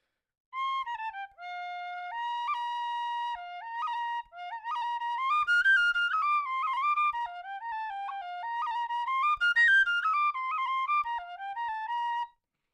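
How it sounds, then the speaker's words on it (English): Tin whistle in F played alone, a clear bright melody of sustained and stepping notes with short breaths between phrases, close and steady. "This is my F whistle, though."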